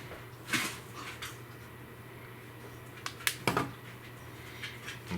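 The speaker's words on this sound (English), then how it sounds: "The dogs are over there in the background making noises." Dogs make a few short, faint noises in the background of a quiet room where amber is being shaped and polished at home, with scattered light knocks and clatter.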